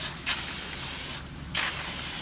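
A spray gun lays a test pass of clear coat over metal flake repair on a fiberglass boat: a steady, loud air hiss with brief stronger bursts as the trigger is worked.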